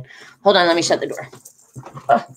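A dog on a bed barks and whimpers indoors, short close yelps partly under a man's speech.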